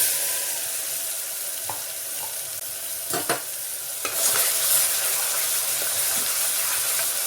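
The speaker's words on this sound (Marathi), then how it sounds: "दोन ते तीन मिनटं छान परतून घेतली आहे तेल सुटायला लागलं आहे" A ground masala paste with turmeric, asafoetida and curry leaves sautéing in oil, a loud close sizzle with several spatula scrapes and stirs against the pan, and nobody speaking.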